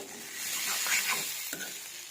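Mixed vegetables with green chillies stir-fry in a pan, giving a steady close hiss and sizzle with a few scraping stirs, with no talking.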